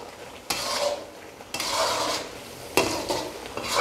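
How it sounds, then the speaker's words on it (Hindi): Spices are stirred and mixed in a pan for a green chicken karahi, with a spoon scraping in a few distinct strokes over a soft sizzle from nearby. "इन सब चीज़ों को जो है वो अच्छी तरह मिक्स कर लेंगे"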